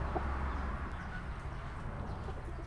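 Chickens cluck faintly in a backyard coop under a steady, broad ambient hiss, with a few short clucks early and little else distinct.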